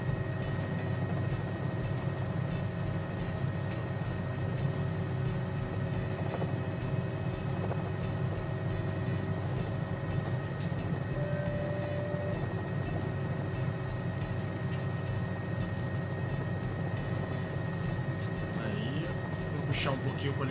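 A constant low rotor drone and engine hum of a helicopter in a flight simulator video game, steady and unchanging throughout, with faint talk underneath.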